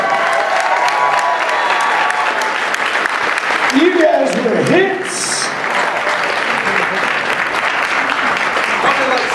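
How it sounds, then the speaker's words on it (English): A convention crowd at the Midwest Media Expo 2014 closing applauds and cheers Team 4-Star, a continuous roar of clapping with whoops, while a voice speaks briefly over it. "I want a round of applause for Team 4-Star."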